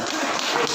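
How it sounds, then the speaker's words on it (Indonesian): Applause at an outdoor sports park inauguration and anniversary celebration in Pakuwojo, a dense steady wash of hand claps lasting under a second. "Tepuk tangan untuk Mas Tesi"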